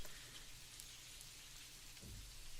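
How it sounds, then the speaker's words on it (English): Rainforest rain in a background recording: a steady, faint hiss of rain falling on surfaces with a low rumble, no clear birdsong standing out. "Some birds, some rain"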